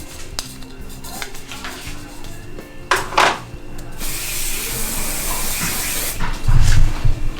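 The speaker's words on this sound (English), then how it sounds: "kind of spray it just with that finishing spray" A steady hissing spray of hair finishing spray on a bridal updo runs for a couple of seconds after some handling noises and brief clatter, close up.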